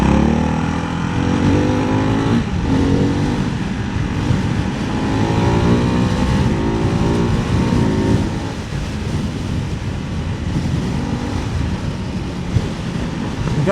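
A Ducati Hypermotard 698 Mono motorcycle pulls hard in third gear, its single-cylinder engine roaring steadily with rising and falling revs, heavy wind rush buffeting the microphone throughout.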